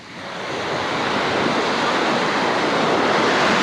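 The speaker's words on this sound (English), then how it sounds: "The waves are calmer now." Ocean waves breaking on a beach at Puerto Vallarta in the morning, a continuous loud roar of surf swelling up in the first moments and then holding steady, with wind on the microphone.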